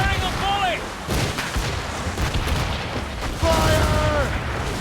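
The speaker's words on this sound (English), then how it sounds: "They are firing a volley!" Enemy ship in a naval battle video game firing a cannon volley: a series of deep booming blasts rolling over a constant roar, with shouted voices and whistling tones in the mix.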